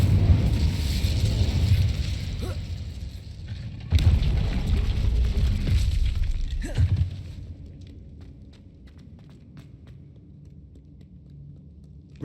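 Incendio fire spell in Hogwarts Legacy: a loud, roaring burst of flame that surges twice, then fades into a low crackling rumble with faint ticks, close and full-bodied.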